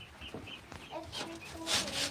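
Guinea hens in a coop give short, soft clucks and chattering calls at close range, scattered over a couple of seconds.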